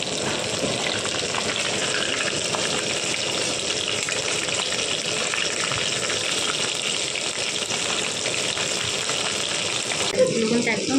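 Snacks frying in hot oil in a wok give a steady close sizzle and bubbling hiss, unbroken for most of the time, with a brief clatter near the end.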